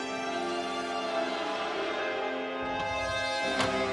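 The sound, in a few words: 70s house doorbell ringing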